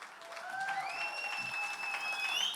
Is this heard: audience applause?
yes